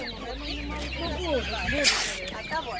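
Poultry calls with rising and falling clucks and quacks come from mulard ducks among birds for sale at a busy outdoor market in Kosiv, Ukraine, close by and continuous, with a brief rustle partway through.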